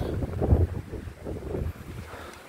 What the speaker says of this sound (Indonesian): Ini suasana tiba-tiba angin kenceng banget, mendung berawan.